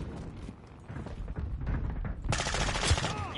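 Rapid gunfire crackles in a battle royale video game fight, starting as scattered muffled shots and swelling into a loud, dense burst of automatic fire near the end.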